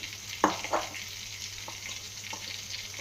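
Chopped, salted wild lime for pickle sautés in a pan with a soft, continuous sizzle, marked by two sharper scrapes of stirring early on, then quieter frying without any voices.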